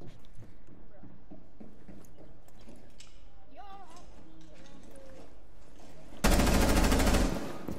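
Gunfire in the Rainbow Six Siege video game bursts out as a loud, dense automatic volley near the end, after stretches of quieter clicks, footsteps and faint game sounds.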